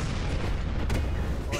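An explosion in Garry's Mod, heavy booming blasts with a thick low rumble and a couple of sharp cracks, loud and close, with talk over them.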